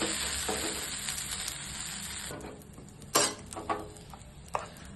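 A dosa sizzling on a hot pan, a steady frying hiss that fades, followed by a few sharp scraping clicks as it is flipped.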